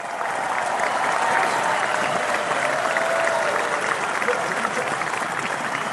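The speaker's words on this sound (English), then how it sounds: "nice round of applause" A studio audience at a live radio broadcast gives a steady round of applause, a fairly even wash of clapping heard at moderate distance with faint crowd murmur beneath.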